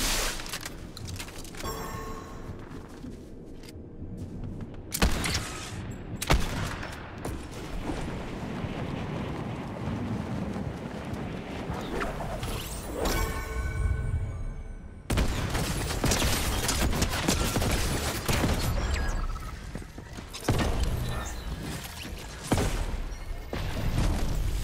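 Repeated bursts of gunfire crackle and boom through a busy, rumbling game soundscape, some shots sharp and close, others distant.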